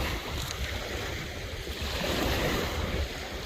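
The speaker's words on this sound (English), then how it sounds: "sorry if you're getting a bit of wind noise" Wind buffets the microphone on an open UK beach at night while surf rolls steadily in the background, a continuous roar with no talk.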